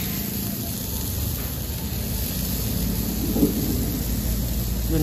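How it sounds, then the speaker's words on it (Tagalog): Thunder rumbles as a continuous loud low roar, blended with steady hiss like rain, over about five seconds, with no talking. "Kumukulog."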